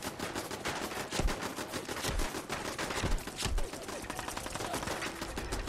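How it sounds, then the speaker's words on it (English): Enemy gunfire in Fallout 4 during a settlement fight: rapid, continuous machine-gun rattle with sharp individual shots, steady and dense throughout at a moderate level. "they're shooting at me"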